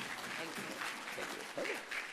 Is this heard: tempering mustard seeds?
no